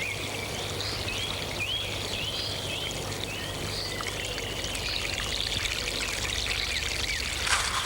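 Mains water pours steadily over runner beans in a summer vegetable garden, a constant rushing stream while birds chirp faintly in the background.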